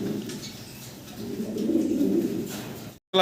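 Pigeons coo softly nearby, a low throaty warble that swells and fades over a few seconds before cutting off abruptly.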